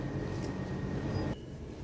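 A metro train rumbles through an underground station with a steady low roar and a faint tonal whine that cuts off abruptly near the end; no talk.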